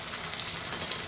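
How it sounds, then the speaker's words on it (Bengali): Radish greens frying with whole garlic, onion and raw turmeric paste in a pan, giving a brief, steady close sizzle with faint crackles. "এবারে কাঁচা হলুদ বাটা দিচ্ছি"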